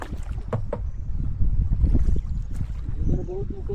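A rowing boat glides across a resort lake, with water sloshing and dull oar knocks under soft wind and murmuring voices close by.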